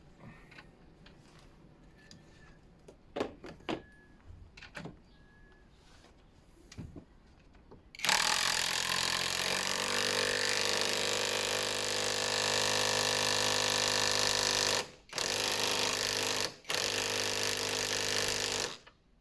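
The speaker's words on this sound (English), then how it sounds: "Alright, let's tighten this up." Impact wrench or power tool tightening a front suspension top mount bush on a Peugeot 308 1.6 HDi, a loud continuous mechanical rattle running steadily with two short breaks, preceded by quieter clinks and knocks of tools.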